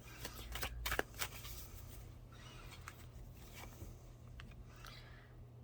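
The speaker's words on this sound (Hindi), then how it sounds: "2 कार्ड और निकालूंगी" Tarot cards are shuffled and drawn, a quiet papery riffle with a few crisp snaps around the first second, then soft fluttering card sounds over a low background hum.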